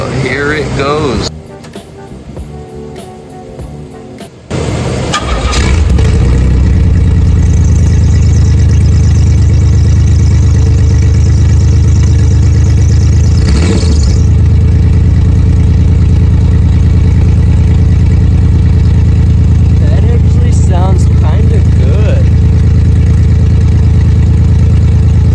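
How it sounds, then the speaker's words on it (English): A project car with no exhaust fitted cranks briefly, then fires and settles into a loud, raw, rumbling idle with a blip of revs partway through; a voice speaks briefly near the start. "We gotta start it up with no exhaust on it just to see how it sounds."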